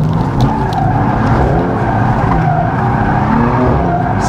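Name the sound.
BMW M4 GTS drifting with tire squeal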